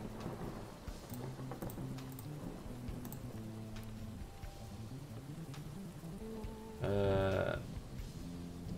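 Heavy rain falls steadily as background ambience, a soft continuous hiss with faint distant rumbles, under a brief burst of voice near the end.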